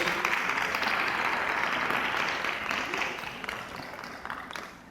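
Applause from the audience at the opening of the third ABRAPE congress in 2018, a thick round of clapping that stays strong and then gradually fades toward the end.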